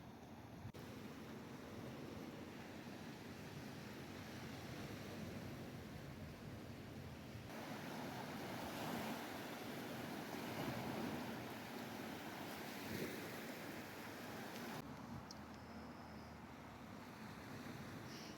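Surf washing steadily onto a pretty beach ringed by mountains near Mazarrón, Spain, a continuous broad rush of waves with some wind noise on the microphone, swelling slightly in places, no voices.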